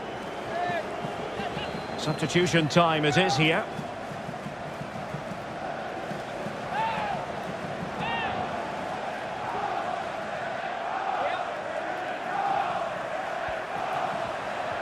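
A stadium crowd in a FIFA 22 Champions League group match roars and murmurs steadily in the background, with whistle-like cries rising early, under an announcer's voice.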